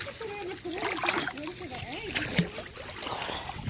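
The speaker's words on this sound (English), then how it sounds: "Stop splashing me!" A dog, one of a group of malamute, husky, wolf dog and Yorkie poo pups, paddles and splashes in water, with close sloshing and splatters mixed under excited human voices and a dog's whines.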